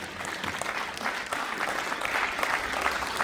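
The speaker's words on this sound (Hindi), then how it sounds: "एक बार डॉक्टर महावीर जी के लिए जोरदार तालियां हो जाए" Steady, energetic clapping from a seated audience at a lecture, given for Dr. Mahavir Sharma, heard throughout with no talking.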